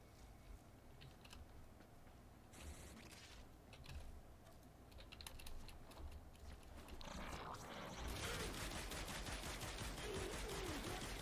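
Panthera Prime saw-blade weapon fired in the video game Warframe: a rapid, dense stream of clicky, clattering shots that grows busier and louder toward the end, heard at low level.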